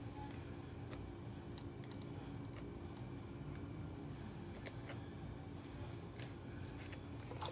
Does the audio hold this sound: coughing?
no